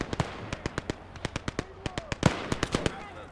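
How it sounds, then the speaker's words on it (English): Mortar and artillery fire in a WWII video game battle crackle as a fast, uneven string of sharp distant blasts, about twenty in three seconds, some louder and closer than others. "mortar's gobbling up so much supply, but so effective in once you've got line of sight on a trench"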